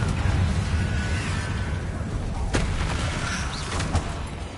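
A Confringo spell in Hogwarts Legacy bursts with a loud, dense rumble and sharp cracks, followed by a whooshing tail and crackling debris, close and up front.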